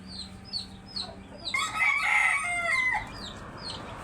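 Brahma chickens in a pen give repeated short clucks and calls, then a louder, longer crowing cry in the middle, followed by more scattered clucking nearby.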